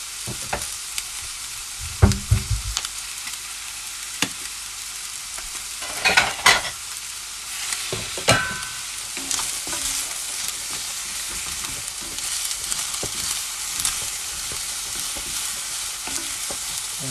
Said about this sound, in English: we're going to stir fry the plums until they start to colour